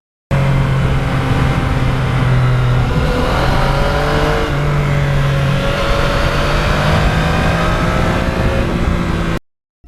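A Yamaha MT-09 motorcycle engine revs loudly and close by for about ten seconds, its pitch rising and falling as the throttle opens and eases.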